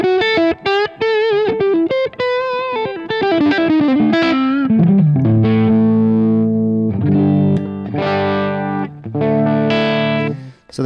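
A Gibson SG electric guitar played live through heavy distortion runs a quick descending line of notes, then rings out with loud sustained chords that hold and change a few times before cutting off.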